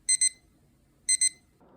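Two short pairs of bright electronic beeps from a basic alarm clock, about a second apart, loud and clear against a quiet room, with a faint rustle creeping in at the end.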